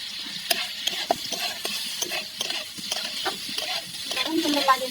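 Cauliflower fries in a little oil with a steady light sizzle while a utensil stirs and scrapes the pan in quick, repeated strokes, close by and fairly soft.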